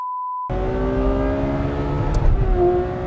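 A Mercedes and a Ferrari sports car rev hard after a short test tone, a loud, close engine roar climbing and shifting in pitch with no talk.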